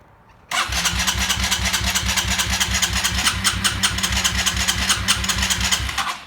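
An electric starter cranks a cold engine in a rapid, rhythmic churning that continues steadily for several seconds without catching, loud and close.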